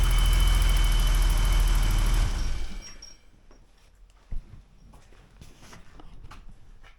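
The engine of a 1985 BMW 635 CSI runs at a loud, steady idle and then shuts off, leaving quiet background with a single sharp knock a moment later.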